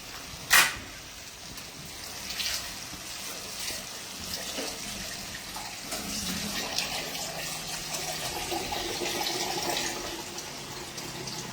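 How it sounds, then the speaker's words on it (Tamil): Water is poured into a pot of bitter gourd tamarind curry during home cooking, a steady splashing pour heard close. A sharp clink comes near the start, and no one speaks. "தண்ணி ஊற்றி கூட்டி வைக்கணும்."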